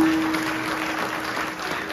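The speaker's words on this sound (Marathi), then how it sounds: "काहीतरी लोकांसाठी पण टाळ्या वाजवा" Brief, steady clapping from a kirtan crowd at Shivaji Chowk, Hupari, with many hands overlapping evenly and a faint hum lingering underneath.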